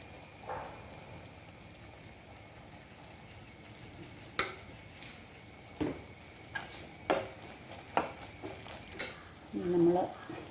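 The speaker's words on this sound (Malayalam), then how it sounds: "ഉലുവപ്പൊടിയും കൂടി ചേർത്ത് നന്നായിട്ടൊന്ന് വഴറ്റി" Fenugreek powder and asafoetida sautéed in a pan while making a banana-stem dish, a faint low sizzle under scattered sharp spoon scrapes and taps against the pan, ending in a louder stirring rustle.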